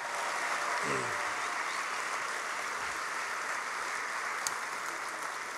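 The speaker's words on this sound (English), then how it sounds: "how about one more big round of applause for all of our athletes in attendance tonight?" A crowd at a high school sports awards event claps steadily throughout, a dense even wash of applause with a brief whoop early on.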